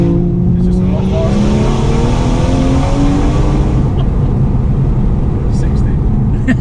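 A stage 2 tuned BMW M240i drives with quick downshifts, its engine loud and close with rising and falling revs throughout, and a few brief crackles near the end.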